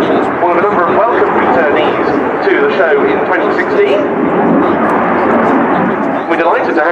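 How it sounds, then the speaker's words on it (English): Spanish Air Force Eurofighter Typhoon jet performing a flying display at the Royal International Air Tattoo airshow, its loud, sustained engine roar filling the air under a commentator's continuous speech. "Very nice to see the Spanish Typhoon back in the Air Tattoo flying display"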